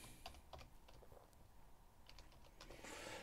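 LaTeX code is typed on a computer keyboard as soft scattered key taps, faint and close over a hissy background, with a denser burst of keystrokes near the end.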